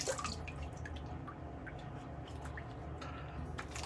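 A shaving razor is rinsed under running water, giving a faint, close trickle with soft drips and small wet splashes throughout.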